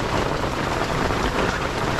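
Steady rain pours at a house construction site in a rural setting, a dense, even hiss of drops on surfaces that stays loud and unbroken with no voices.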